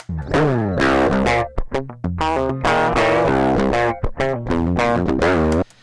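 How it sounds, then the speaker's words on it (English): A heavily distorted electric guitar plays a riff of sustained, buzzing chords and short choppy stabs, loud and harsh, with no voices. "It's super harsh and aggressive"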